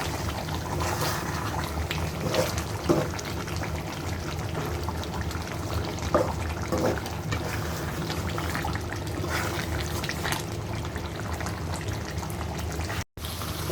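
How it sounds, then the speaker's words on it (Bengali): Beef head meat braises in a pan with water added, giving a continuous bubbling, sputtering hiss with occasional louder pops and spatters throughout. "আমি পানি দিয়ে মাংসটা কষিয়ে নিচ্ছি"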